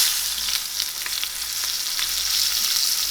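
A New York strip steak sears in a hot pan while butter is spooned over it, giving a loud, steady crackling sizzle with scattered spits and pops and no voices.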